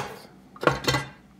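The top cover of a KitchenAid Professional 5 Plus stand mixer pops loose after its screws are removed, giving two brief clattering knocks of hard housing in quick succession, close by.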